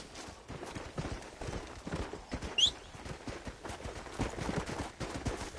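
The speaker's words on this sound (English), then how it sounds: "Horsey." Horse hooves clip-clop in a steady rhythm in the Western game Red Dead Redemption, moderately faint, with a brief sharp chirp partway through.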